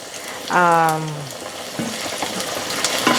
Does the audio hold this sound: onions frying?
yes